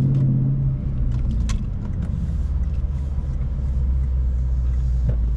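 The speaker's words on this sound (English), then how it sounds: "the muffle that you hear right now is pumped in through the speakers" A Lexus IS 500 F Sport's engine sound is piped through the cabin speakers as a steady, muffled low rumble with a droning hum, heard from inside the car without talk.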